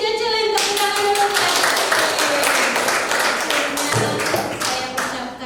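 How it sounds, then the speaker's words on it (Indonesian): A class claps hands together at the close of a school lesson, a dense run of many overlapping hand claps, fairly loud and steady throughout. "tepuk tangan dulu"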